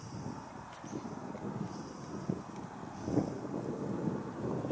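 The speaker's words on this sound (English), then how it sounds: "Well, with a little wind." Light wind blows outdoors on a calm day, a soft continuous rumble and buffeting against the microphone with gentle gusts swelling slightly toward the end.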